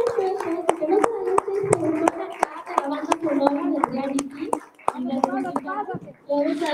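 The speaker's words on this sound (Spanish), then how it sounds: "Quiero que le demos un fuerte aplauso para recibir a Jorge Terror." An audience at a charity concert claps in a steady rhythm, with sharp, evenly spaced hand claps running throughout beneath voices and chatter.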